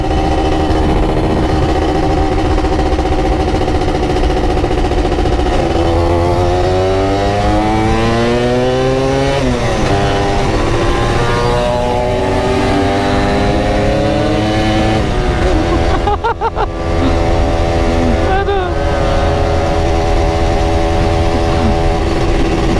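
A Fiz R underbone motorcycle runs continuously on a test ride, its engine droning loud and close while the pitch rises and falls through repeated revving and gear changes, with wind noise and no talking.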